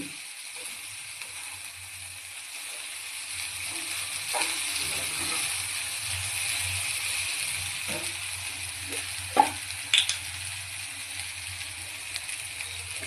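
Quiet, steady sizzling of flattened rice frying in ghee in a pan, with a few soft stirring clinks and scrapes, close and low in volume.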